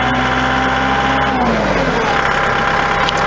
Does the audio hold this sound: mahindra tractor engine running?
yes